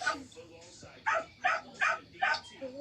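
A dog barks in a steady run of about five sharp barks, fairly close, with whiny yelps between them.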